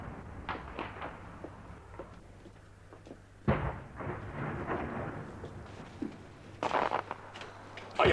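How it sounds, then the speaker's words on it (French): Fireworks burst over a riverboat deck in a 1965 French film, a few deep booming explosions, some distant and muffled and others sharp and loud, with rumbling echoes between them. "Ah, le feu d'artifice !"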